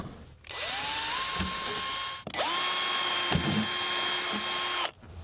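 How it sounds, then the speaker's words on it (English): Power drill boring holes through light bar brackets on a police interceptor build: two sustained whining runs, the motor ramping up to a steady pitch, broken by a brief pause, close and loud. "Now we could drill our holes using the light bar brackets as a guide."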